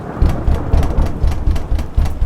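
Heavy cartoon rain pours steadily, with low rumbling thumps swelling at regular intervals beneath the hiss of the downpour. No one speaks.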